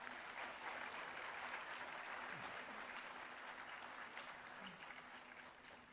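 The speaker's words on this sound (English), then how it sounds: "Please join me in welcoming Professor Peter Scott with a big applause." Applause from a university foundation day audience welcoming a professor, a steady wash of many hands clapping at a moderate distance, continuous and even throughout with faint murmurs beneath.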